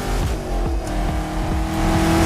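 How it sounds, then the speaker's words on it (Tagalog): A car drives in Roblox Build a Boat for Treasure, its engine humming steadily with a few quick revs and pitch sweeps as it accelerates and shifts. No talk is heard over it. "So para ka talagang nagdadrive ng kotse."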